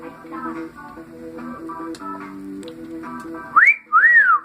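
Background game music plays, then near the end a cockatiel gives two clear rising-and-falling whistled notes, loud and close.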